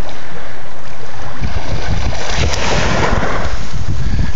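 A loud wave crashes and rushes, with heavy wind buffeting the microphone and a continuous roar of surf.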